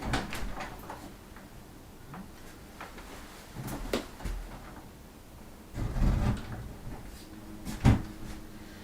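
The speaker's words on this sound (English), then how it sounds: "And then we test the door." A door swings open and shut during testing after a hinge repair, giving soft knocks and a brief latch clatter near the end over faint room noise.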